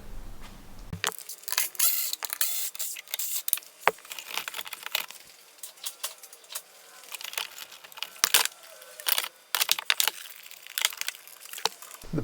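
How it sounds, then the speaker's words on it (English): A Milwaukee 1/4 inch electric ratchet removes bolts from a Volkswagen Touareg V10 TDI rear bumper area, giving repeated short whirring bursts and clicks, close and fairly quiet, with metallic rattles between them and no talking. "I'm going to be using our little Milwaukee 1/4 inch electric ratchet"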